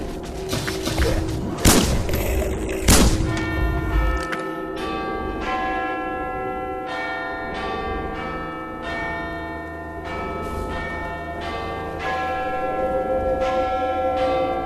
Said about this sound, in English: Is that where that bell is ringing from?